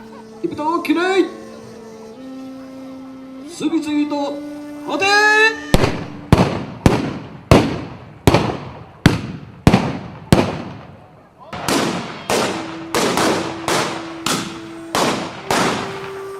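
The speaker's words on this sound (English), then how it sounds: "Now the first volley has been completed, the gunners have to reload as quickly as they can" A volley of Japanese matchlock guns fired at a gunnery display, a rapid string of about a dozen sharp, loud reports with echoing tails, preceded by shouted commands and a blown horn or conch, then more shots at a steady pace.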